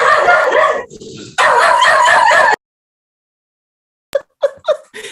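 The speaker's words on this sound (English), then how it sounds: "Just a bunch of dogs." Several dogs bark loudly and continuously in two close bursts, then after a pause come a few shorter yips and whimpers.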